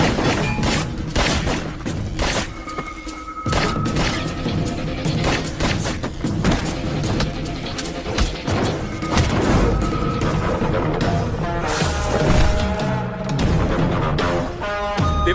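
Rapid bursts of gunfire and heavy booms in a dubbed action film battle, dense overlapping shots and crashes, loud and continuous with music underneath.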